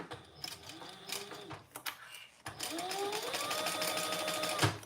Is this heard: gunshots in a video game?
no